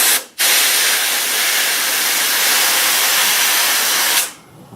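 Compressed air blows in a loud, steady hiss through the pitot tube plumbing of a Piper Super Cub wing, starting abruptly and cutting off after about four seconds.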